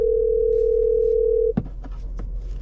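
A telephone tone sounds while a call is placed to someone, a steady continuous tone for about a second and a half that cuts off abruptly, followed by clicks and faint line noise.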